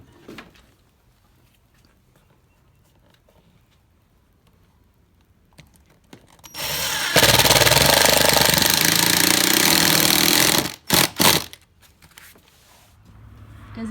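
A power drill drives screws into a fiberglass front door jamb, a loud close whirring burst lasting a few seconds, followed by two short quick bursts, with quiet handling noise before and after.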